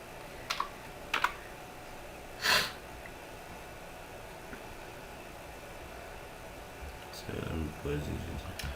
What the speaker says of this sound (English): I'm not typing this very well.